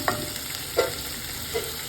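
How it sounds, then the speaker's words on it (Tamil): Chicken frying in oil in a pan while being stirred, with three short scraping stir strokes over a soft, steady sizzle, close and fairly quiet. "அதே ஆயிலில் நல்லா சிக்கனை கொஞ்சம் நல்லா ஃப்ரை பண்ணிக்கலாம்"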